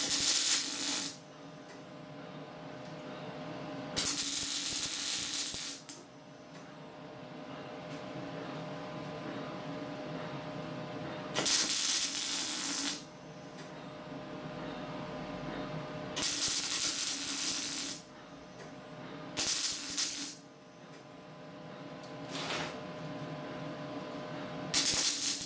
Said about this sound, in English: I'll try and weld it up as best I can.